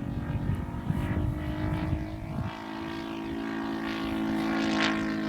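A quarter-scale Hurricane model airplane drones overhead on its maiden flight, a steady propeller-engine hum that rises and falls slightly as it passes, heard at moderate distance without talk.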